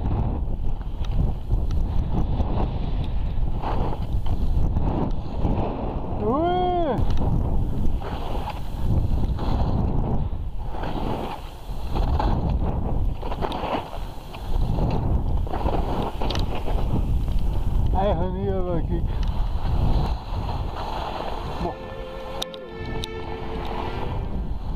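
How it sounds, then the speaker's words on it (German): Strong wind on a mountain during a ski tour near Pusterwald, Austria, roars and buffets steadily throughout, with gusty rumbling and a couple of brief whistling tones. "Und es ist windig geworden."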